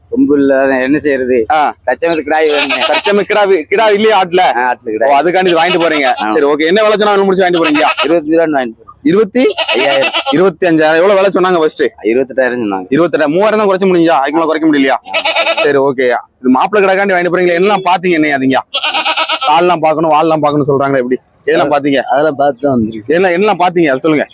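Goats bleating loudly and repeatedly at the Ettayapuram goat market, many overlapping close calls that fill the scene almost without a break.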